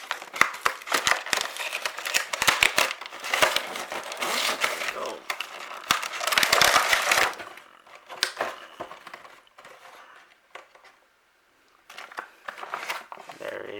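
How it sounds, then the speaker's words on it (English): Riho action figure pulled from its plastic packaging, with close, irregular crinkling and crackling bursts and pauses between them, fading near the end. "Let's take out Riho out of her packaging."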